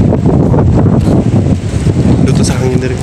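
Strong wind buffets outdoors on an island trip, a loud, continuous roar rumbling and gusting against the microphone throughout, with a person talking underneath.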